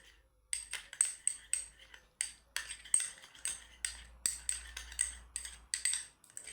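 A metal spoon stirs a curd facial mixture in a small bowl, producing repeated quick clinks and scrapes against the sides in an irregular rhythm, close and crisp, with no talking.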